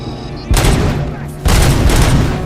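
Sniper rifle fire in a video game, two loud heavy booming shots roughly a second apart, each trailing off with a rumbling tail.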